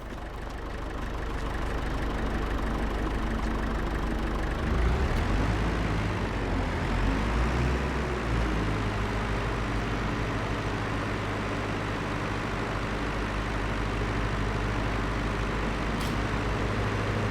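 A tractor engine idling and running steadily in a farming simulation game, a dense low droning rumble that swells early and then holds constant, loud and close with no talking.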